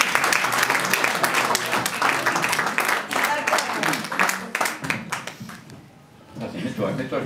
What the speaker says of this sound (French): Je vous demande de l'applaudir avec tout son talent, voici Serge Pietka.